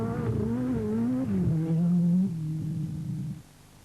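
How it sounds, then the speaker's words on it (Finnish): A rally car on a special stage of the 1986 Acropolis Rally, its engine note rising and falling through gear changes as it passes, fairly close and then cutting away; no talk is heard. "Juha Kankkunen ajaa tälle 11 kilometrin mittaiselle erikoiskokeelle 3. nopeimman ajan"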